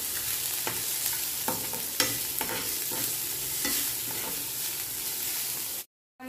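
Chicken being mixed with salt in a pan, repeated scraping strokes of a spoon over steady frying sizzle, close up, ending abruptly in a brief silence.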